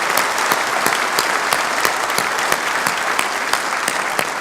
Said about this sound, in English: I just want a round of applause for Mitch and Jake and the people from the Guthrie